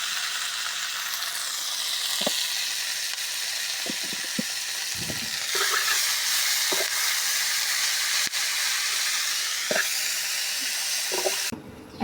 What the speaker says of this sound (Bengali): লবণ দিয়ে ভাজবো